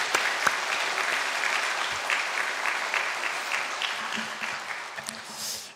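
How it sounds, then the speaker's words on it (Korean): A church congregation claps steadily, a sustained round of applause that gradually thins toward the end. "우리 한번 박수 보내줘도 좋을 것 같습니다"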